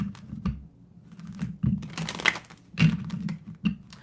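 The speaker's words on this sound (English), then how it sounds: "I just have to really shuffle up these cards" Oracle card decks are shuffled by hand at close range, giving irregular bursts of papery flicks, taps and riffles separated by brief pauses.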